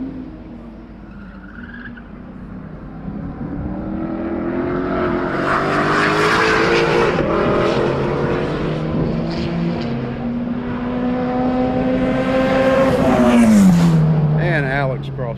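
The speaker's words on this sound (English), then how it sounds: "Billy's showing the Shelby no mercy this morning. Just absolutely hammering on the car" Shelby race car driven hard on a track in the morning, its engine roaring louder as it approaches, holding a high, strained pitch, then dropping in pitch as it passes near the end, with a commentator talking over it.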